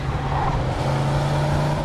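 In the Mafia II video game, a car engine revs with a steady, loud droning hum and a strong low tone that holds throughout, sounding close and continuous.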